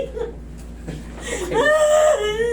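A person undergoing treatment for frozen shoulder cries out in pain, with whimpering sobs rising into a sustained wavering wail, close and loud.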